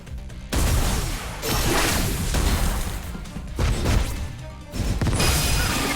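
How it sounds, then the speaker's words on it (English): Explosive blasts from the character Wolverine's attacks in the action game Metallic Child, loud broadband bursts coming in several back-to-back waves with brief gaps and whooshing tails, no talk over them. "I like the explosion sounds too of Wolverine."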